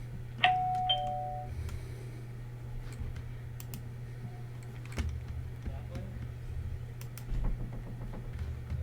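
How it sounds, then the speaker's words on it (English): A doorbell sounds once near the start, a clear two-tone chime at moderate distance, followed by soft scattered keyboard typing and clicks over a low room hum. "People keep ringing my doorbell"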